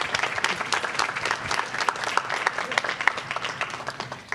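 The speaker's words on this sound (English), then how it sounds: "So I want to give her another big round of applause for being so vulnerable." An audience at a student success celebration livestream gives a steady round of applause, dense clapping from a moderately sized crowd heard at a middle distance, with no talk over it.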